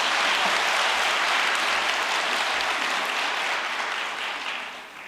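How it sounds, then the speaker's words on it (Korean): Dense, sustained applause from a church audience at a New Year prayer gathering welcomes a regional church leader, loud and continuous before easing slightly at the end, with no speech over it. "큰 박수로 모시겠습니다."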